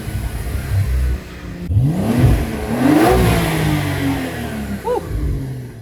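A Porsche 992 Turbo with a titanium exhaust and stock downpipes revs with its exhaust valves open. It gives loud, close blips that rise and fall and repeat over several seconds among buildings, with no talking.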